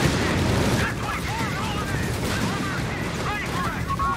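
Gunfire and explosions from the World War II strategy game Company of Heroes 3, a dense rattle of shots and blasts under excited voices, with a steady battle din and no pause.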